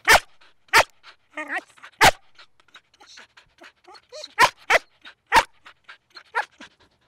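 A young police dog barks in loud sharp bursts spaced a second or so apart, with panting and small whimpers between them and a person speaking over parts of it.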